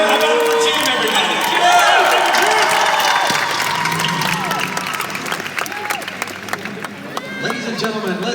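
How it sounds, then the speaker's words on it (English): A large convention panel audience at WonderCon 2016 applauds and cheers loudly, sustained clapping and whoops filling the space, gradually thinning toward the end. "Let's get a round of applause for all of our cast and creative team"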